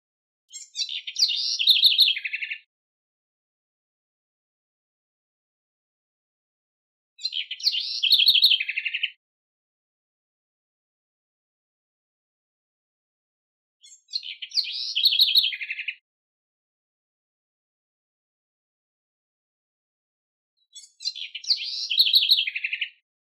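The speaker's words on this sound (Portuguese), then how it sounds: "O terceiro pássaro da lista é a corruíra cantando no amanhecer." A house wren singing at dawn: four short bright song phrases repeated at regular intervals of several seconds, clear and fairly near against otherwise silent air.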